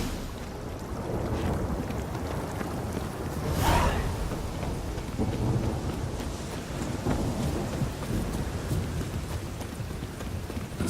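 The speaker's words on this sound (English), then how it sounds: "A storm, damn it." Thunderstorm with steady rain in The Witcher 3, a constant hiss of rainfall with a rolling thunder crack near the middle, heard alone without voices.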